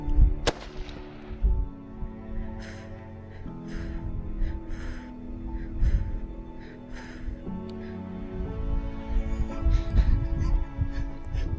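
Rifle shot at a buck during a Louisiana deer hunt, one sharp loud crack near the start, followed by rustling, breathing and low handling sounds with no speech.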